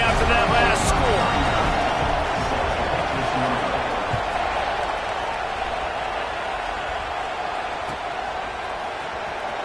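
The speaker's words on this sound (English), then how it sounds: "this crowd is buzzing after that last score" Stadium crowd in the NCAA 26 football video game during a one-score fourth-quarter game at Auburn, a steady loud roar that buzzes throughout, with a brief sharp impact near the start.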